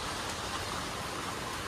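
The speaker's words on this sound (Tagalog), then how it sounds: "Ang lakas-lakas na ng ulan." Heavy rain pours down steadily in a backyard, a dense, even hiss of close downpour with no break and no voices.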